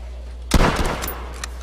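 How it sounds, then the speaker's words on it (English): A single loud, close .308 hunting rifle shot from the video game H1Z1 cracks sharply, followed by a short reverberant tail and faint mechanical clicks, with no talk. "Next up we have the 308 hunting rifle, which is a pretty accurate weapon"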